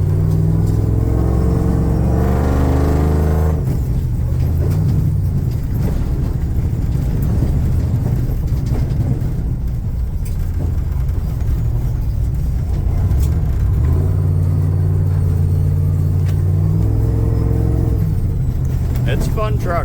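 A Prerunner truck's engine rumbles steadily through its first test drive, with revs rising and falling in deep harmonic surges while voices talk over it.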